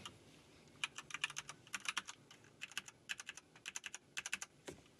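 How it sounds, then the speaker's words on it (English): Rapid bursts of quiet keystrokes on a computer keyboard while someone plays a word search game, clicking in uneven clusters with brief pauses, fairly soft and close. "Type it out."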